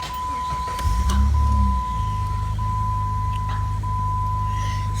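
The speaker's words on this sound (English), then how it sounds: "I'm gonna crank it up so y'all can see how the car sounds" A Jeep Grand Cherokee starts up and settles into a steady idle with the AC cranked up, a low engine hum and fan drone alongside a thin constant tone and occasional faint clicks.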